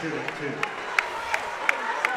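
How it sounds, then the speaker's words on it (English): High school basketball fans in a gym applaud a fouled-out player: a few distinct claps, evenly spaced and fairly faint, sitting under a continuous commentator's voice and arena murmur. "And he gets a round of applause from the Defiance fans."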